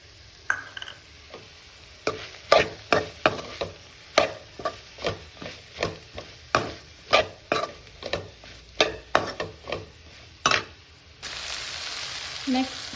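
Spring onions are stirred into rice frying in a pan for South Indian style fried rice, a steady run of sharp spatula scrapes and clacks over a low sizzle, ending in a brighter hiss of frying.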